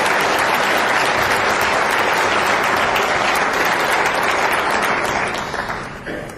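A debate audience at an atheists' convention breaks into loud, dense applause, many hands clapping continuously for several seconds before the sound begins to thin and fade at the end.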